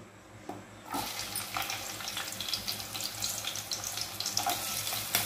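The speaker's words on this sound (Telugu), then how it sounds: "బాగా వేడి అయింది ఆనియన్ వేసుకోవాలి." Sliced onions hit hot oil in a pan for a mushroom curry, bursting into a loud, crackling sizzle that continues with popping spatters after a quiet start.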